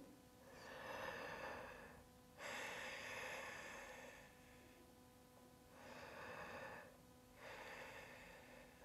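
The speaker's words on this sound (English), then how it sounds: "Deep breathing." Slow, deep breaths during a yoga bow pose, close and audible, with long inhales and exhales in a steady rhythm of about four breath cycles.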